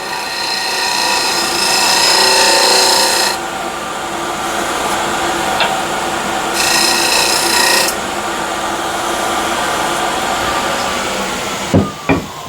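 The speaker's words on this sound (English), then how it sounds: "Just be careful how you present the scraper." Steady rasping scrape of a hand scraper working soft, punky hornbeam wood, in long continuous strokes with brief pauses, close and fairly loud, no talking.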